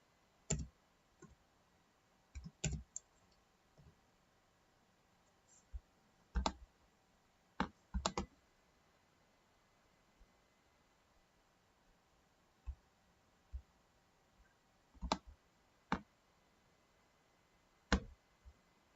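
Sharp, isolated clicks of a computer keyboard in a spreadsheet program, sparse and irregular, tapping in small bursts against near silence.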